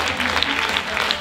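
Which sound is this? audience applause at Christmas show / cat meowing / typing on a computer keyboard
audience applause at Christmas show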